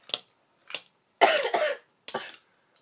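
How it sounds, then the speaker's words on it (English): A person with a cough coughs several times in separate bursts, two short ones, then a longer, harsher double cough, then another, close to the microphone and quiet in between. "Yep, I got the coughs."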